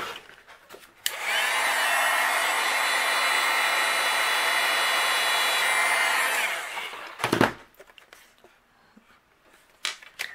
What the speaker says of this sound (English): we'll use the heat gun and melt this